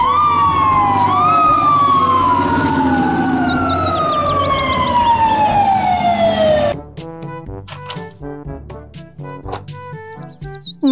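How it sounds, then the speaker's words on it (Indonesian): A toy fire truck siren wails loudly and close, its pitch sliding up and down, then stops suddenly and gives way to playful music. "Mobil truk pemadam kebakaran."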